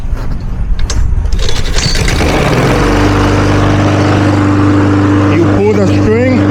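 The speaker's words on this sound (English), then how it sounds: "I was gonna show you how we start the lawnmower real quick" A petrol lawnmower is pull-started in a backyard: a rattling cord pull gives way to the engine catching and settling into a loud, steady running drone, close by.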